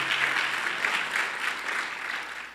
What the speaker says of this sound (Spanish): ¿Qué tal si le damos una bienvenida a los que están allá con un aplauso?